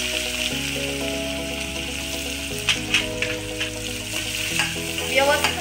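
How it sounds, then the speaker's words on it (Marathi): Curry leaves and chopped onion sizzle loudly in hot oil for poha, a continuous crackling fry over a steady hum, with stirring clatter building toward the end. "त्याच्यामध्ये आपण 8-9 कढीपत्त्याचे पान टाकू। त्याच्यामध्ये 2 मीडियम कांदा टाकू।"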